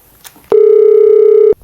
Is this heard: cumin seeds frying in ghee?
no